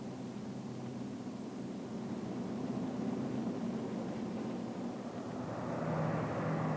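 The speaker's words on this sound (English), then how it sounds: "The plane circles over Port-au-Prince" A vintage clipper airplane circling over Port-au-Prince, Haiti, gives a steady, continuous propeller-engine drone with no voices, growing slightly louder and brighter toward the end.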